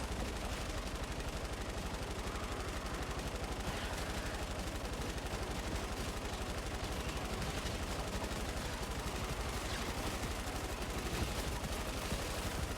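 Continuous gunfire in Fortnite Save the World, a dense, unbroken rattle of rapid automatic shots that runs steadily throughout at moderate volume with no pauses.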